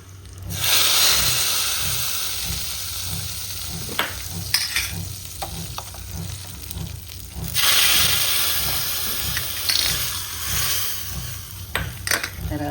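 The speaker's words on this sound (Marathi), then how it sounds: "पॅनमध्ये तेल मस्त गरम झालेलं आहे मी जिरे घालणारा" Cumin and green chillies sizzle steadily in hot oil in a pan, a loud continuous hiss with occasional stirring clinks and pan knocks, swelling and easing over time.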